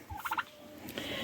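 A turkey gobbles in a quick rattling burst of several notes, fairly close, followed by quieter outdoor background noise on a cold day.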